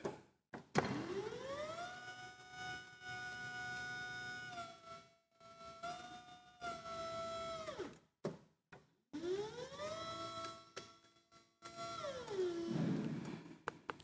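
Hydraulic motor whine from a Winlet 350 glass lifter as its boom telescopes under proportional paddle control, rising in pitch, holding steady, then winding down, repeated in two strokes with brief pauses and no talk.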